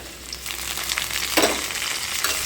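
Onions and tomato frying in a pan, a steady close sizzle with occasional stirring scrapes.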